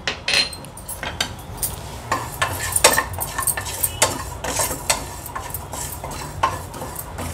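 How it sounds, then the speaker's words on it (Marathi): Fenugreek, fennel, cumin and coriander seeds dry roasting in a pan, stirred with a utensil that scrapes and clinks against the metal in quick irregular strokes, close and clear with no voices. "आता ह्याच पॅन मध्ये आपण मेथ्या, बडीशेप, जिरं आणि धणे भाजून घेऊया"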